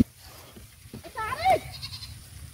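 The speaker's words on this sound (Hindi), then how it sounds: "ये बकरी किसी ने अपनी डाल रखी है।" A goat grazing in an overgrown grassy village plot gives a single wavering bleat midway, close and clear over a low background hum.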